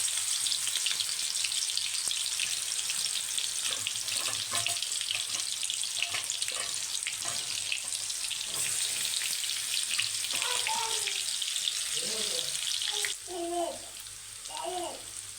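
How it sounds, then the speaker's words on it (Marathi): Ginger garlic paste fries in hot oil for a prawn dish, making a strong, continuous hiss and spatter with scattered clicks. Toward the end the sizzle drops somewhat and faint voices can be heard beneath it. "तेल तापत ठेवलेलं आहे सगळं त्याआधी आलं लसूण पेस्ट"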